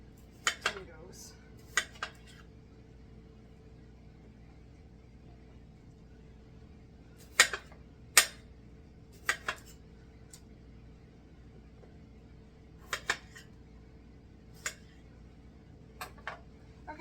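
Potatoes are chopped with a knife on a board: sparse, sharp clacks come singly and in quick pairs, with long quiet gaps between them, close and crisp against a faint background hum.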